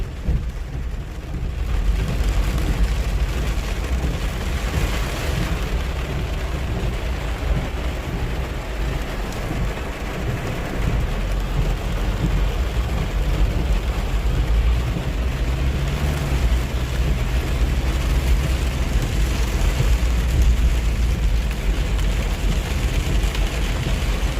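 Heavy night rain pours down in a dense, continuous roar with a low rumble underneath, unbroken for the whole stretch.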